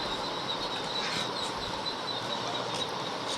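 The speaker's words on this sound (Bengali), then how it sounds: "আর এখানে কিছু কবুতরের বেবি রয়েছে" Pigeons and squabs at a crowded open-air pigeon market, giving soft coos and faint chirps with a brief wing flutter, set against a constant dense background of crowd noise.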